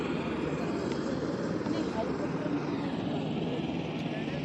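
A helicopter arriving at the Sanjhi Chhat helipad on the Vaishno Devi pilgrimage route sets up a steady, loud rotor and engine drone overhead, with people talking over it.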